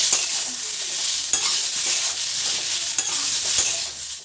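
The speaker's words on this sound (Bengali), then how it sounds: "এই মশলাটাকে ভালো করে ভেজে নেব" Ground spice paste with ginger fries steadily in a pan for a vegetarian Bengali potato and pointed gourd curry, a continuous close sizzle broken by a few sharp stirring scrapes, with no talking.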